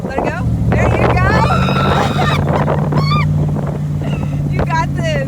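Superformance Shelby Cobra MKIII engine at Laguna Seca, with a loud, steady low drone that stays constant throughout, mixed with wind buffeting and voices talking over it.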